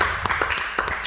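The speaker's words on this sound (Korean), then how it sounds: "이 타이밍에 박수 한번 쳐드리고" A church audience gives a short round of clapping, with a few distinct claps standing out over a dense steady wash of sound in the hall.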